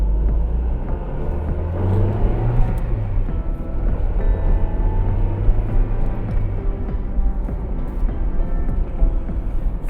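A 1998 Honda Integra Type-R is driven, its engine a steady low rumble with road noise from inside the car, continuous and fairly loud without any talk.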